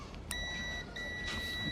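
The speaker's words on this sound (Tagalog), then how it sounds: "Yan, may buzzer tayo." A multimeter tester's continuity buzzer beeps while probing the power board of a Samsung LED TV with no power, giving a steady high tone that cuts off briefly and resumes, fairly faint over background hiss.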